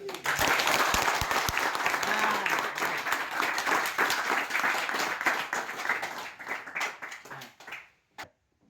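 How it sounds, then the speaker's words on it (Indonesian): A classroom of students bursts into hand clapping, loud and dense from the start, thinning into scattered claps before a final lone clap; a faint voice may sound underneath. "tepuk tangan dulu"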